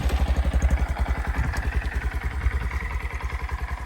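A Honda motorcycle idles close by with a steady, fast, even pulsing thump and light mechanical clatter, loud and unaccompanied.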